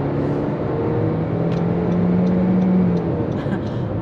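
A Honda CR-V Touring 1.5 4x4 (2022) with a CVT gearbox, engine droning loudly and steadily at full throttle on the road, its pitch rising gradually as it pulls hard, heard from inside the vehicle.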